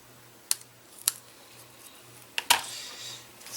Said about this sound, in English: just cut up the middle and then just go on either side and cut them from the, cut up to the middle slice that you made.